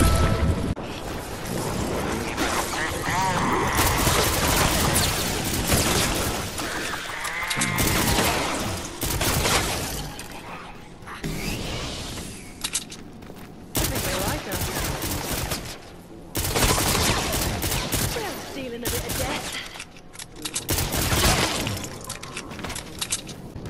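Ranger assault rifle firing in Fortnite Save The World, a loud, dense run of repeated gunshots in bursts with short pauses, mixed with other game effects throughout.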